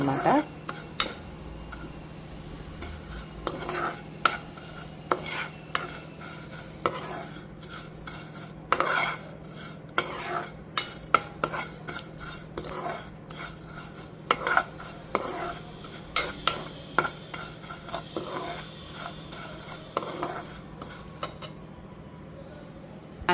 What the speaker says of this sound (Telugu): సో ఇది లైట్గా నేను వేయిస్తున్నా కొద్దిగా కలర్ చేంజ్ అయ్యే వరకు